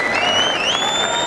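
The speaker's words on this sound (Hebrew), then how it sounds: "מגיע לכם המחיאות כפיים." Audience applause from a large crowd in a sports hall, dense and loud throughout the short stretch, with whistles or cheers rising over it.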